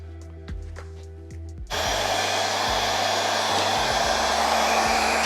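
A hair dryer switches on partway through and blows steadily at a constant loud hum while spreading acrylic paint in a pour painting, after a quieter start with faint clicks and tones.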